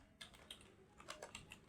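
A computer keyboard is typed on in a short, quiet burst of light, irregular key clicks heard close by, with no voices over them.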